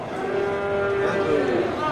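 A large Simmental bull lows in one long, deep, sustained moo at an Indonesian livestock market in Geurugok, loud and close, with market noise behind it.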